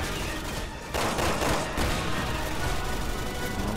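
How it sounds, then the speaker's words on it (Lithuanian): Sniper and gunfire shots in the video game Resident Evil 6 ring out as a dense burst of loud, overlapping reports and booms that keep echoing without a break. "Tas jos snaiperis Pierso labai gerai šaudo."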